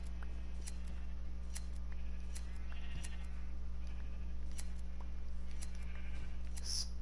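Blocky sheep in the Minecraft video game bleat a few times over a steady low hum, with light clicks and ticks scattered through and no speech.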